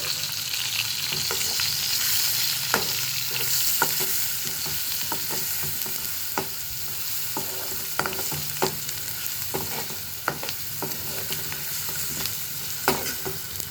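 Chili powder fries in oil in a pan for a dried-fish and brinjal curry: a steady, close sizzle with sharp spoon clicks and scrapes against the pan at irregular intervals, and no talking.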